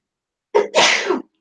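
A single sharp sneeze bursts out close by in a quiet room, a short intake followed by a loud explosive release, with no talking around it.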